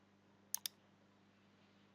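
A computer mouse clicks in a quiet room, with two sharp clicks in quick succession followed by a single click after a pause.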